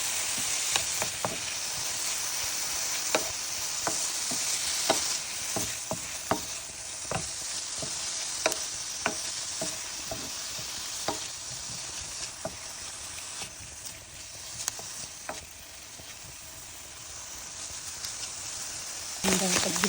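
Mushrooms sautéing in oil in a pan, a continuous close hiss and sizzle dotted with frequent crackling pops and spatula ticks, with no one speaking.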